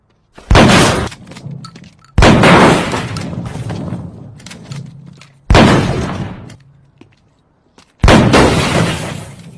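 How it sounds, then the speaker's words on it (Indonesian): Four loud, sharp gunshot-like blasts from a film scene, each followed by a decaying crash with a glassy, shattering tail, spaced a few seconds apart with near silence between. "Nah, karena tembakan Moss ini, sepertinya Anton mengalami luka"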